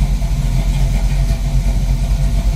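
A 1972 Pontiac Firebird Formula engine idles steadily after coming out of storage, a close, loud, even low rumble with a regular pulsing beat and no talking.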